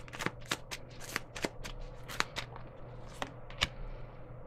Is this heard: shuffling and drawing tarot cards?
yes